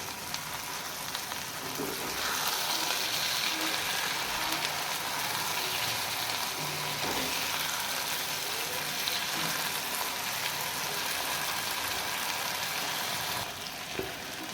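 Chicken wings frying with garlic, green chilies and paste in a karahi, a steady moderate sizzle and hiss with occasional stirring scrapes throughout, no talk.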